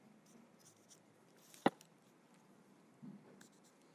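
A ruler laid on craft material for measuring and marking, giving faint scratchy marking strokes in a quiet room, with one sharp tap near the middle and a soft rustle toward the end.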